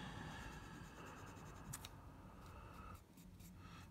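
A Parker 45 fountain pen nib moves across paper in a faint, close scratching rustle, with a few quick strokes and lifts breaking the steady writing sound.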